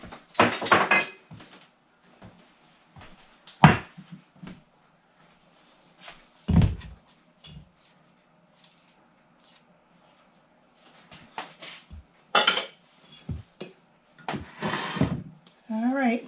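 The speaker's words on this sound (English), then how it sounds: "I'm going to get my pan." Clattering kitchen sounds as a 9 by 9 inch metal baking pan is taken from a cupboard, with scattered knocks, a sharp clank and rattles between stretches of quiet, while a person talks.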